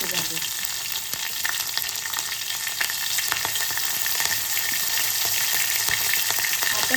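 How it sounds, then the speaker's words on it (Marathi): Green chillies hiss and sizzle in hot oil with crisp garlic for a Marathi toor dal varan, a steady dense crackle throughout with scattered sharp pops, close and loud, with no talking. "आता हिरवी मिरची घालूया."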